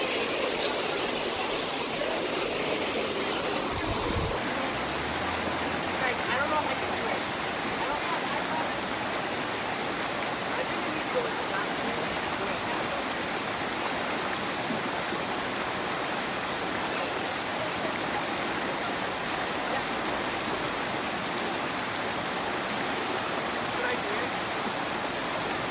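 Steady rushing water of a mountain creek on a backpacking loop, a continuous broadband flow holding even from start to finish, with brief voices near the beginning.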